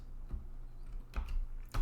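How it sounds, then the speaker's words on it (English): Fingers typing a web address on a computer keyboard, a few close bursts of quick key clicks with short gaps between them. "I guess we need to type it"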